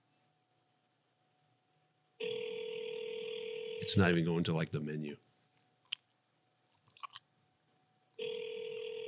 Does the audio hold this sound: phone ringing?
yes